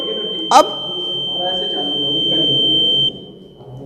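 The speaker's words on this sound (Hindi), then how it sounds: "तो उसके लिए जैसे ही हमने क्लियर का बटन दबाया है, तो 10 सेकंड की लगभग बीप के बाद डिलीटिंग पोल्ड वोट्स ये आएगा" Electronic voting machine giving a long continuous high-pitched beep after the clear button is pressed to delete mock poll votes, sustained for about two and a half seconds, with a brief clack and quiet background voices.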